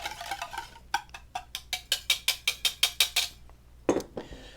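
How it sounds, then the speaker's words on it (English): A whisk clicks rapidly against a bowl while mixing ingredients for Greek gyros, a run of about fifteen sharp, even strokes, close and crisp, followed by a brief clatter. "grab my whisk and give that a little whisk together"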